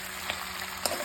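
Fried mutton pieces sizzle in an oily spice masala in a pan, a faint steady crackle with a couple of brief clinks from stirring.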